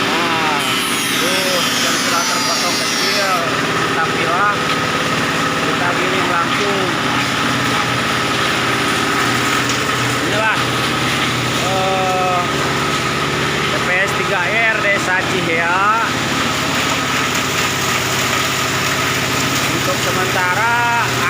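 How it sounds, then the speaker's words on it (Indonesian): A waste shredding machine grinds chopped inorganic rubbish at a village TPS 3R waste processing site in Cihea, Haurwangi. It gives a loud, steady mechanical drone throughout, with voices talking over it. "Nah, tuh yang sudah terpotong kecil kita pilah, kita giling"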